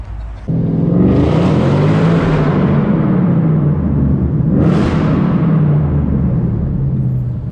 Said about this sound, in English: People constantly ask me to rev the car, and when I do, their faces light up because of the fact that how loud it is.